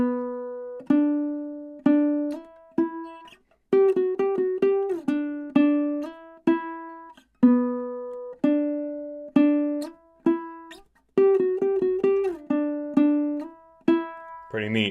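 Ukulele picking a riff, measures one and two played through twice; clear plucked single notes in a slow, heavy rhythm with sliding pitch bends, close and alone.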